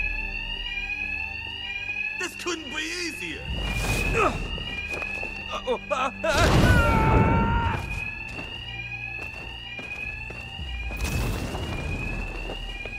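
An alarm in the video game Batman: Arkham Knight rings as a steady high-pitched tone through the whole stretch, with loud bursts of fighting and impacts breaking in and a voice speaking briefly over it.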